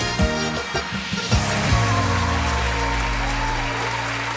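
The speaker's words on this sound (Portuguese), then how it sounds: "eu gosto de ver a chuva de aplausos" Audience applause on a Brazilian television music show, a burst of clapping over a loud sustained musical backdrop with a few sharp hits early on.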